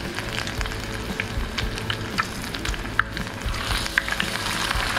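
Small paddy-field fish deep-frying in hot oil make a steady, close sizzle. Scattered crackles and pops run through it, with no talking.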